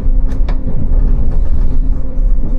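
Inside a suburban commuter train riding through Paris, a loud steady low rumble of the carriage in motion with a couple of sharp clanks and squeaks from the wheels and car body.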